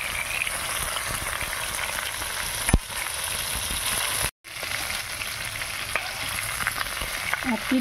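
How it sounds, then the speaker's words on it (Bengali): Ban fish (eel) pieces fry in hot oil in a heated wok with a constant crackling sizzle, interrupted once by a sharp knock and a brief silent gap. "এবার মাছ দিয়ে দিচ্ছি তেলে।"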